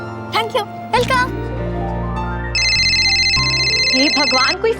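An electronic phone ringtone plays a sustained, high tonal ring partway through, layered under music and voices talking.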